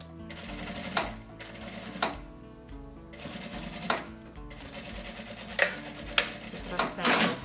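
A sewing machine stitching bias binding along the edge of vinyl, running in short bursts with rhythmic mechanical clatter and brief pauses, close to the listener.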